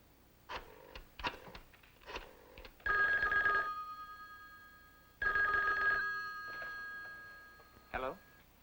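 A telephone bell rings in two long bursts with short clicks and handling sounds between them, fairly close and clear in a quiet room.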